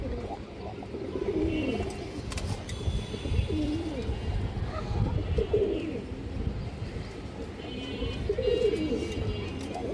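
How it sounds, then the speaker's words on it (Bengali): Pigeons coo repeatedly in soft, low, rolling calls over a dense background of fluttering and murmuring birds, fairly close. "বড় সাইজের একটা বাঘা মাদি কবুতর আছে"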